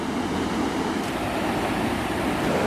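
A raging river rushes past close by, a loud, constant roar of churning water with no pauses.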